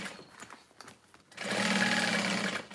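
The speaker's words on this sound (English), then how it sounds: "Got the bottom sewn up on one side." A sewing machine stitches a vinyl tote bag, a sudden steady whirring run of close, even stitching that starts after a quiet moment and continues to the end.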